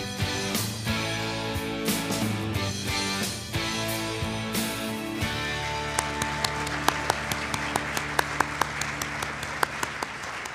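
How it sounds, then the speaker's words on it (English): Applause honoring teachers at an awards evening, a steady spread of clapping at moderate volume, becoming sparser toward the end as individual claps stand out over a low background tone. "Please join me in honoring these ladies one more time with a round of applause"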